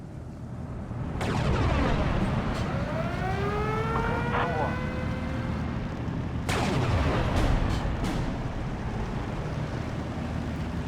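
Artillery fire support in Steel Division 2, with a couple of heavy booming impacts roughly five seconds apart over a constant rumbling battlefield bed, plus a whistling, wavering tone in between.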